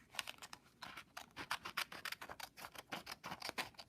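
Small kindergarten scissors snip through folded origami paper at close range, a quick, irregular series of crisp cuts with no voices.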